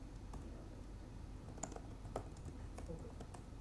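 Someone types on a computer keyboard during a computational biology lab session, faint scattered key clicks at an irregular pace under a low, steady room hum.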